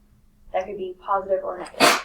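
A single sharp sneeze bursts out in a classroom just after a teacher speaks, loud and close at the very end.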